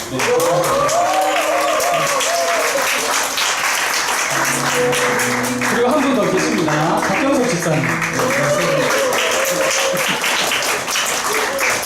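In a Sunday afternoon church worship service, a congregation keeps up steady clapping as members are introduced by name, with someone speaking clearly over the applause.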